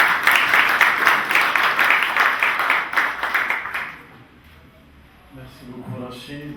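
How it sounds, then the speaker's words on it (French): Audience applauding a speaker at a history book fair in El Jadida, loud sustained clapping for about four seconds that then fades away, leaving quiet room noise and faint murmuring. "Je vous demande tout d'abord de l'applaudir, chaleureusement."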